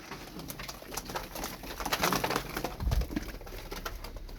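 Pigeons coo softly nearby amid rustling and wing flutters, with a few low throaty calls rising above the shuffling background.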